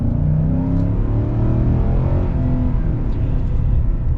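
A 2021 Nissan Titan Pro-4X pickup accelerates hard, its engine droning loud and steady with a rising, layered tone throughout, close and without speech.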